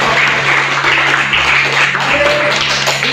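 Students in a high school physical education class clap for a group of classmates. The applause is a dense, continuous patter throughout, with a low hum and some voices mixed in.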